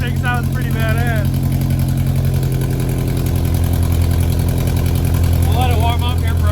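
A cheap Ford Ranger pickup with a freshly fitted custom exhaust idles while warming up, holding a steady, deep, rumbling drone throughout. Someone talks over it at the start and again near the end.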